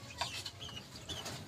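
Backyard pet chickens clucking in their coop, a few soft clucks and low calls close by over steady ambient noise.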